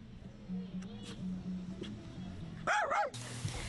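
Dogs bark and yip in short bursts, loudest near the end, under and between someone speaking French outdoors with steady background hum.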